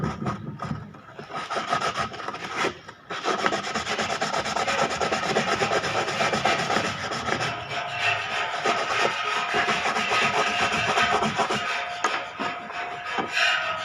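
Steady, close abrasive rubbing as a carbon brush for an angle grinder is sanded down by hand, a continuous rasping scrape after a brief pause near the start, with no talking.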